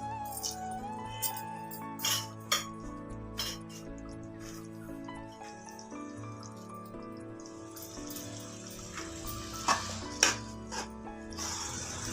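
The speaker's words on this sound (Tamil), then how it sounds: "நல்லா அப்சைட் டவுனாக நல்லா மிக்ஸ் பண்ணி விட்டுக்கோங்க" Mixed sprouts are stirred into a boiling masala curry in a pot, giving intermittent clinks and scrapes of a spoon against the pot over a steady background with faint tonal music, and no one talks.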